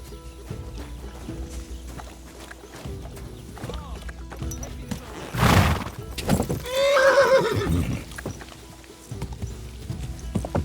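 In Kingdom Come: Deliverance II a horse gives one loud, close neigh, with hooves clip-clopping and shuffling before and after it and a brief burst of noise just ahead of the whinny.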